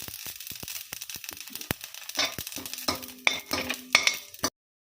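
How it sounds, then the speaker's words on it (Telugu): Cumin seeds fry in oil in a pan with a light crackling sizzle, under close, repeated metallic taps and scrapes of a spoon stirring. The sound cuts off abruptly near the end. "కొంచెం ఆయిల్ వేసుకుని జీలకర్ర కూడా వేసి వేయించుకుందామండి"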